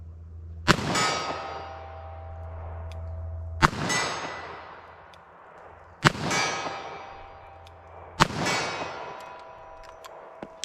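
Four loud, sharp revolver shots fired at a steady pace, each with a ringing metallic decay, from .38 Special standard pressure rounds; the shots are close and nobody speaks.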